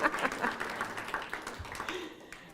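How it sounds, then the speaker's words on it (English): Audience applause at a PAALS service dog graduation ceremony in 2013: steady, dense clapping from a crowd that holds for a couple of seconds and thins slightly toward the end, with a faint voice underneath. "Big round of applause for Brandy,"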